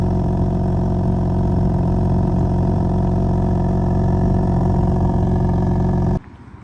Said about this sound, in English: BMW exhaust is second to none, really.